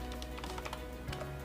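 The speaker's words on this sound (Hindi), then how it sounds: "ऐड न्यू पे क्लिक करने के बाद हम इस पर टाइप करेंगे" Typing on a computer keyboard while searching for the Yoast SEO plugin in WordPress, heard as a steady run of quick, light key taps, close and moderately quiet, with no voices.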